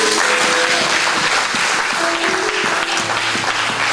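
A church congregation applauds continuously, a dense, loud wash of clapping from many hands filling the hall, with faint sustained tones underneath.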